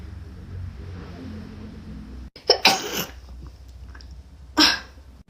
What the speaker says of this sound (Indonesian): Bersinku brutal sekali.